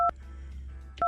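Two short touch-tone telephone beeps, one at the start and one a second later, as a phone number is dialed, with a quiet low hum between them.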